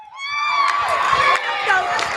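A crowd cheers and whoops to spur on participants called up in teams, a bright clamour of shouts and high voices running continuously for a couple of seconds.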